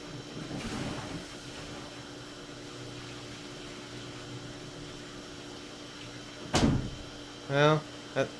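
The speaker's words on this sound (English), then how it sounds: "do a flush here, and then we listen." A toilet in a riverside house under renovation flushes with a brief rush of water, then the pipes knock with a short burst of rapid thuds from water hammer. A low hum sits underneath the whole time.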